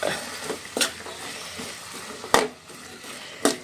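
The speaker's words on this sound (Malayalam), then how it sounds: "ഇനി നന്നായിട്ടൊന്ന് ഇളക്കി കൊടുക്കുക" Papaya thoran with turmeric and green chilli sizzles softly in a pan while a spoon stirs it, giving a few sharp scraping clacks against a low steady frying hiss.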